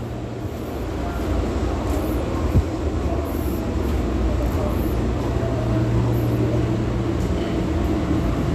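A Washington D.C. Metro train rumbles steadily at close range, its low drone filling the car with a brief thump partway through.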